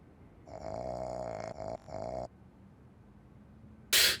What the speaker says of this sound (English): Just looping snore noises.